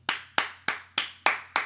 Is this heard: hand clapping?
yes